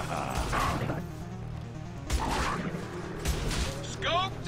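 Dog barks and yelps from the game Mass Effect 2 break out in a few short bursts over a dense, constant layer of game noise and music, with a thin whining yelp near the end.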